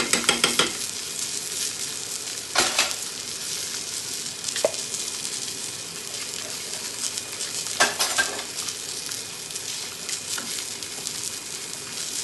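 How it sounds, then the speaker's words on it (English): A pot of braised beef base with beef stock being stirred, a steady soft sizzle and bubbling throughout with a few sharp scrapes and clinks of a utensil against the pot, no voices. "Let's stir this up and make sure we get all the base in there."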